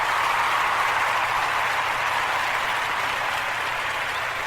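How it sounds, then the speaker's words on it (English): Clapping sound effect, a dense wash of many hands applauding at an even level throughout, steady and fairly loud with no voices. "And 12 seconds of clapping is a lot."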